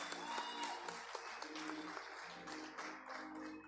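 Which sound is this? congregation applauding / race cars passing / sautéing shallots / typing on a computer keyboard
congregation applauding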